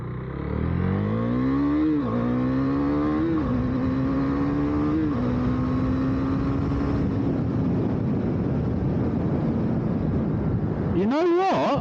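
A 2023 KTM Duke 390 motorcycle accelerates hard in first gear, its engine note climbing through several rising revs with brief dips between them, loud and close, then easing off before a final sharp rev at the end.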